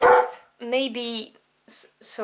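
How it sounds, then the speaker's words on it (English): A pet dog barking indoors, a few sharp close barks in quick succession, with someone speaking briefly between them. "excuse my dog, she just heard something"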